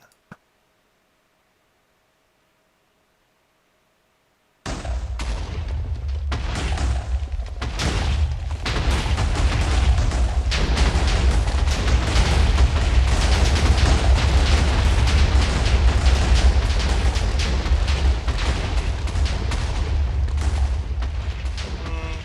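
Several Minecraft TNT blocks exploding after a short near-silence, a loud sustained chain of booming blasts and rumbling debris that continues heavily for many seconds with no talk.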